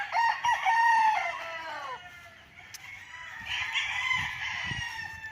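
A rooster crows loudly nearby, its call trailing off, followed by softer clucking and chatter from several chickens in coops on a farm lot in Liliw, Laguna.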